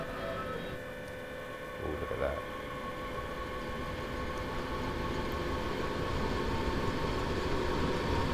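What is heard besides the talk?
train pulling away, Train Sim World 2 video game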